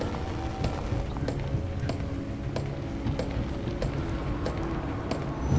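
A horse gallops in The Evil Within: The Consequence video game, its rhythmic hoofbeats clopping steadily over a constant low ambient drone, with no one speaking.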